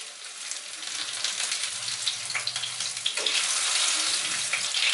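Vanjaram fish fries in hot oil with a steady, bright sizzle that swells slightly, close and continuous with no talking.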